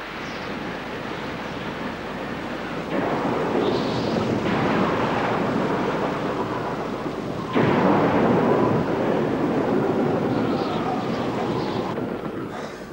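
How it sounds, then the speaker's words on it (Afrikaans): Heavy, steady rain roars throughout, with swelling low rumbles like distant thunder and gusty wind noise, and no talking. "Ek het nog nooit sulke reën gesien nie"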